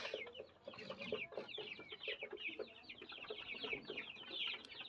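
A crowd of Sonali chicken chicks sick with coryza peeping nonstop, a dense flurry of high, thin chirps close by with soft lower clucking underneath.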